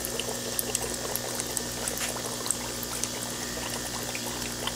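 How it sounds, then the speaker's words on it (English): An air pump drives water and bubbles through a mister cylinder outdoors, producing a steady rushing, bubbling hiss with scattered small pops, continuous and moderately close, no talk. "it's most definitely got a lot more volume going through that cylinder now with air and the bubbles combined"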